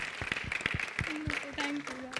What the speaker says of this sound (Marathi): जोरदार टाळ्या राजसीसाठी.